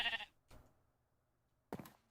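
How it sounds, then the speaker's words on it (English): A few separate sheep bleats from the blocky game Minecraft come up close and clear, with near silence between them and no talking over them. "Babs, I think that's just a sheep."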